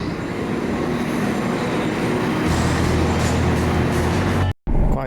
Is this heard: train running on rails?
yes